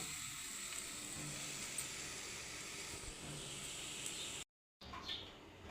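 Leftover biryani reheats on a hot griddle, giving a steady broadband sizzle that runs continuously before a brief cut and then resumes.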